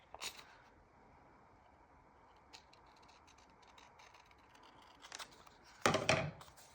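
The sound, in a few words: scissors cutting a paper picture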